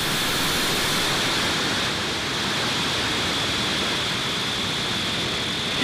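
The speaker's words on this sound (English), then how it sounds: "ignition, engines full power, and liftoff of Starlink 6-10." Roar of SpaceX Falcon 9 engines at liftoff of a Starlink launch from Cape Canaveral Space Force Station, a loud, dense, continuous rumbling rush that holds steady throughout with no voices.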